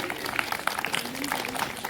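Audience applause welcoming guests at a village Ambedkar welfare society function in Puari, a steady patter of scattered hand claps from a crowd with faint voices mixed in.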